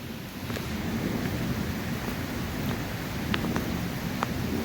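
Sudden heavy rain from a first-of-season storm falls in a steady, dense wash with gusty wind, a few brief sharp taps standing out close by, continuous and fairly loud with no voices.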